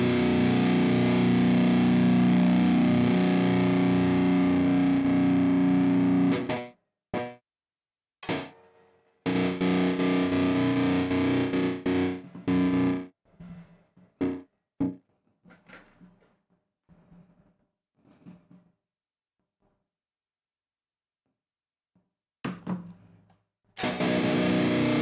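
A distorted pop punk guitar mix plays loudly in REAPER while a noise gate plugin chops it, leaving bursts of sound separated by sudden cuts to near silence and brief fragments in between.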